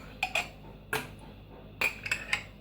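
A metal spoon clinks against a jar as apricot jam is scooped out, a few quiet, sharp taps spaced irregularly in a calm kitchen.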